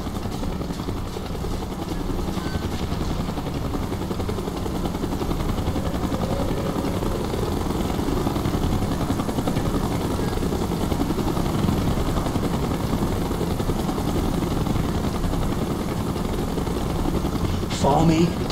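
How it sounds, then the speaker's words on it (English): A helicopter approaches in the Call of Duty: Black Ops campaign, a steady loud rotor drone that builds slightly over many seconds, with game voices talking over it. "Chopper's inbound! Move it!"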